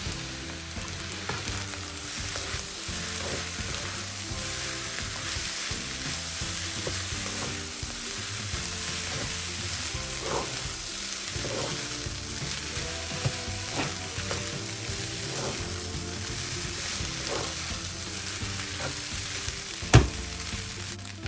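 Vegetable egg fried rice stir-frying in a pan with soy sauce added, a constant loud sizzle with repeated scraping and clanking of a utensil against the pan in an uneven rhythm, and a sharper knock near the end.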